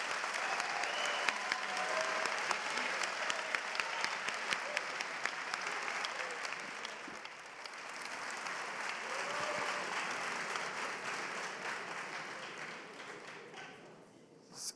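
Audience at a youth forum with François Hollande breaks into long, sustained applause, a steady wash of many hands heard at some distance that holds for over ten seconds before tapering off.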